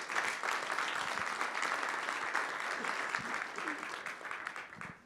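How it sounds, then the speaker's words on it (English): A large college audience at a State of the College address applauds its faculty, dense, sustained clapping filling the hall evenly before tapering off at the very end. "Let's give our faculty a round of applause, please."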